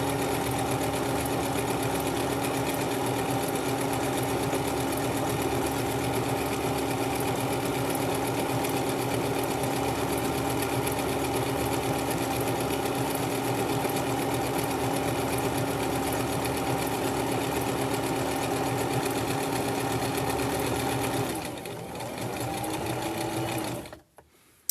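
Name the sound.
sewing machine stitching a fabric headband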